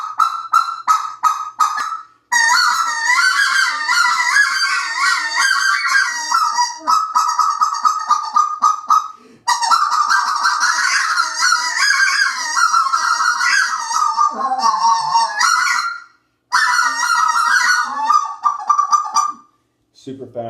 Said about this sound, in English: Here's a little sound file of what the Freebird sounds like.